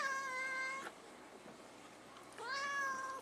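A cat meows loudly indoors at wild turkeys near a fire pit outside, two drawn-out, harmonic cries with a pause between them, heard close and alone.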